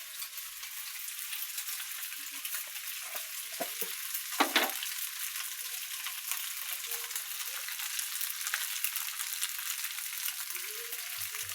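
Egg frying in a pan gives a steady, faint crackling sizzle with occasional sharper pops and light utensil stirring noises, without any talking.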